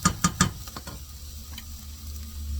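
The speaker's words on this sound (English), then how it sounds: "While my onion is sauteing nice and slow" Onion sautéing slowly in a pan for butternut squash soup: three quick stirring scrapes up front, then a soft, even sizzle continuing close by.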